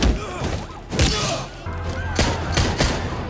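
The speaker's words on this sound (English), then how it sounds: "Hearing gunshots, Bagman arrives on scene." Several sharp bangs of gunfire in the game Marvel's Spider-Man (2018) ring out at uneven intervals over a busy background of effects.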